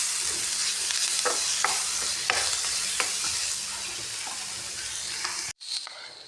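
Garlic frying in a pan for a chicken dish, a steady close sizzle broken by periodic scraping stirs of a spatula, cutting off briefly near the end before resuming.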